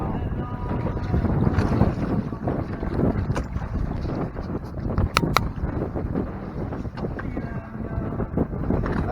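Strong wind buffets the microphone and rough water sloshes around a Hobie Mirage Tandem Island sailing kayak on Lake Michigan near Pentwater, a loud, continuous, gusty rumble with splashes throughout.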